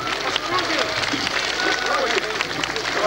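An audience at a live 1997 concert by the Black Sea Fleet Ensemble in Krasnodar bursts into dense, sustained applause, many hands clapping steadily without pause at close range.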